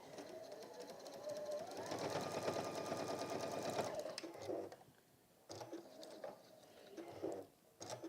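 A sewing machine stitches down a small scrap of fabric in one steady run of about four seconds, close and clear, followed by quieter handling and faint rustling sounds.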